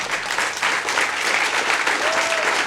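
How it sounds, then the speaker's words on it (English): Conference audience applause: a sustained wash of many hands clapping at a steady density throughout, fairly loud and even, with no distinct voices on top. "You can clap if you want."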